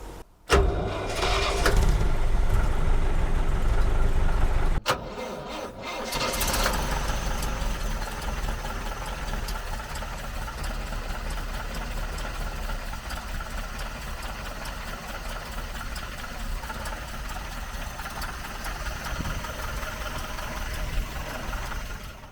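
A 1935 Albion Victor bus engine cranks and fires, then settles into a steady, loud idle with a knocking, mid-pitched rumble that holds for about twenty seconds, heard close with no talk.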